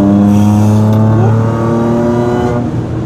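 A loud supercharged V6 car engine revs hard up close, with a high mechanical supercharger whine running over the deep engine roar.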